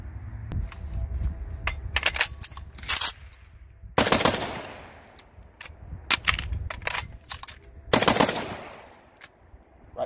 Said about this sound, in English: I'm gonna show you how easy it is to pull and load from one of these mag holsters